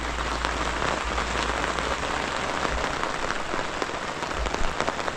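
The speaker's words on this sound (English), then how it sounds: "I like rainy days camping." Steady rain patters densely on surfaces at a riverside campsite in Matewan, West Virginia, a continuous close hiss with scattered louder drops and no voices.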